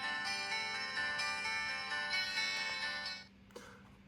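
Music plays thinly through the tiny built-in speaker of an Innioasis Y1 portable player, a bright tinny tone that runs steadily for about three seconds and then cuts off, followed by a faint click, with no voices.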